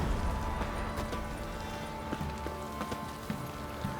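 A horse gallops in The Witcher 3 video game, its hooves beating a quick, steady clip-clop at moderate volume over a soft background wash, with occasional sharper hoof strikes.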